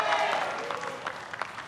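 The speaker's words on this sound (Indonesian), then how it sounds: "Boleh hadirin untuk memberikan tepuk tangan yang paling meriah untuk kedua pasangan calon" Audience at an Indonesian presidential debate applauding the presidential and vice-presidential candidate pairs, a loud, dense burst of clapping from a large hall crowd that tapers slightly over its short span.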